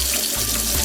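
Leftover water from a bowl of soaking ingredients for a vegan cashew cheese sauce is poured into a kitchen sink, a loud continuous splashing gush that runs steadily throughout with no voices.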